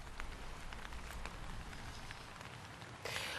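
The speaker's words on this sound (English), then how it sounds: "we've all seen quite a lot of rain today" Heavy rain pours steadily in Slough, a dense, constant patter of drops striking surfaces nearby, with no voices.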